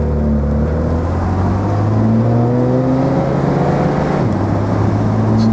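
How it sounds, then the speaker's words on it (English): A 1966 Mercedes 230SL Pagoda with automatic gearbox accelerates on the road, its engine note climbing steadily and then dropping with a gear change near the end, loud and close from inside the car, without talk. "This car starts in second gear, we're in third now, and now fourth, top gear."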